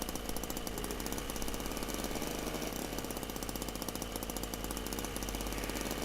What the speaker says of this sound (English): sounds like a moped, as I said, a two-stroke 50cc moped